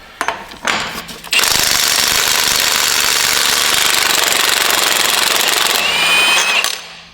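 A Milwaukee impact wrench hammers loose a 36mm hub nut on a Duramax truck, with a few short bursts at the start and then a long, loud, steady rattling run that strains before it stops.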